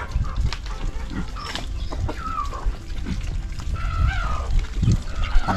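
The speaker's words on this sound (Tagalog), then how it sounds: "Manok." Chickens cluck and chatter in a busy flock close by, with overlapping calls and scratching noises throughout.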